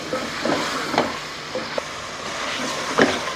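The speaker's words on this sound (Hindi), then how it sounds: "अब हम इसको थोड़ी देर 3 से 4 मिनट अभी सबको भूनेंगे।" Biryani masala, ground chilies and salt fry in a pan, a steady close sizzle broken by a few short scrapes of stirring, with no one talking.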